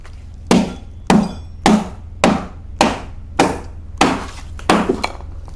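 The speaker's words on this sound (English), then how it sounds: "I'm going to try to hit these blocks with a hammer." Eight evenly spaced hammer blows strike a hard block on a Pride Mobility Baja Raptor mobility scooter during assembly, each a sharp metallic-wooden knock with a short ring, loud and close with no talking.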